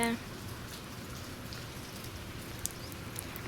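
Rain pours steadily onto a garden with a mango tree and swaying plants, an even hiss of drops hitting leaves and ground that holds unbroken from start to finish.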